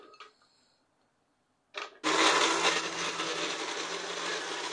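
Garlic and ginger being ground in a blender for Pakistani-style chicken korma: a couple of brief knocks, a short start-up burst, then a loud, steady whirring grind that runs to the end.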